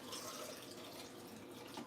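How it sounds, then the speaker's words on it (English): Water is poured into a pot while food is prepared for the week, a faint, steady splashing and trickling stream running alone for a couple of seconds. "Let's throw my water inside here."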